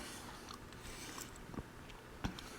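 Quiet, close bites into the crunchy crust of a gluten-free, vegan frozen cheese pizza. There are two dry, crisp crunches about half a second apart against a near-silent room.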